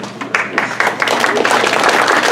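An audience in a Chicago hall claps steadily and fairly loudly to welcome a speaker, with dense applause filling the whole stretch.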